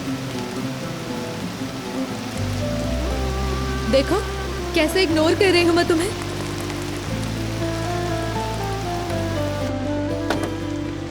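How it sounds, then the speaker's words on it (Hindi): Heavy rain pours in a steady, hissing downpour throughout, while someone speaks over it and a soft musical tone drifts underneath. "इतनी तेज बारिश है, तुम्हें बिल्कुल भी ख्याल नहीं है।"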